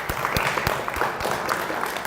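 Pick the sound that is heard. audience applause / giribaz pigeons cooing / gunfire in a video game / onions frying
audience applause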